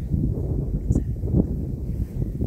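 Low, blustery wind rumbles across the microphone in uneven gusts, a steady outdoor whoosh with a faint brief chirp.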